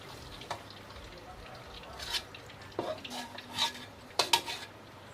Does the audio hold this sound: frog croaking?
no